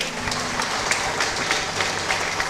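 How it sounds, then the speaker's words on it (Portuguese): A church congregation gives a steady round of clapping during a sermon, a moderate, continuous patter of many hands with a faint low hum underneath. "Merece um aplauso bem forte agora."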